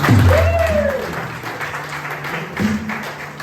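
Applause from a church congregation acclaiming the Lord, a burst of clapping and crowd noise that starts loud and gradually fades, with voices rising over it.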